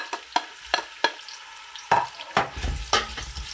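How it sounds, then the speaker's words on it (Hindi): Onion dropped into hot oil for dam pukht korma, with a run of sharp, close spoon strikes and scrapes against the pot, then a denser burst of sizzling and stirring toward the end; no talking. "मैं सबसे पहले इसमें प्याज जो है वो ऐड"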